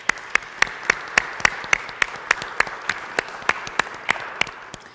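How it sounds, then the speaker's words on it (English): A church congregation at a Sunday morning service claps to welcome visitors, sparse steady applause with sharp individual claps standing out roughly every quarter second over a softer crowd of hands. "this applause is to say good morning and welcome to everybody to this place"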